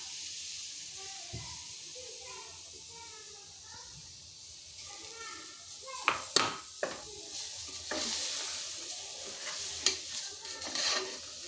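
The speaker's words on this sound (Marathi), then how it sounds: "छानपैकी ही थोडी लालसर होते ना तोवर आपण हे भाजून घेणार आहोत" Ingredients for khandeshi thooli are roasted in a pan over low to medium heat, with soft sizzling and a few sharp scrapes and clinks of a spoon stirring. A voice talks over the cooking.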